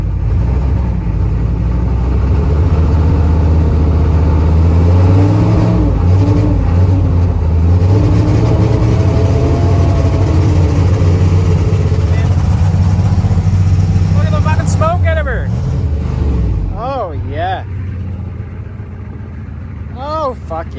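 An old Chevy 6.5 diesel engine, run again after sitting for five years, rumbles loudly and steadily up close, smoking, with voices talking over it near the end.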